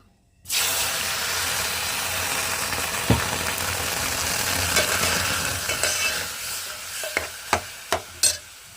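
Lentils fry in a hot pan, turning light brown, with steady sizzling and crackling and a few sharp clinks of a utensil near the end.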